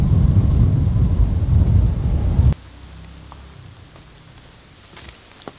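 Heavy rain in a jungle at Kodaikanal, a loud dense hiss of downpour with wind that cuts off abruptly midway, leaving a quieter backdrop of light dripping.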